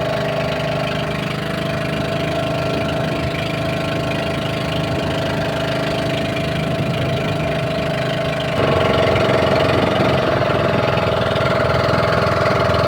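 A motorcycle engine runs with a loud, steady close-up drone that shifts slightly higher near the end, and no talking is heard.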